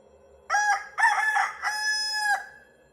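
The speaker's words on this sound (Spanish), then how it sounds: "Finalmente la mañana llega y el gallo canta a los primeros destellos de los rayos del sol." A rooster crows at dawn, one loud, close cock-a-doodle-doo in three drawn-out parts that rise and hold, over a quiet background.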